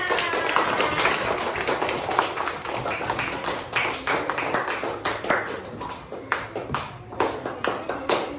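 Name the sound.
child clapping hands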